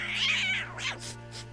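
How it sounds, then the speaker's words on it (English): A cat in the video game The Winter Tower hisses and meows sharply a few times in quick succession, close and fairly loud over a steady low hum. "The cat hissed a few times, then left when it lost interest."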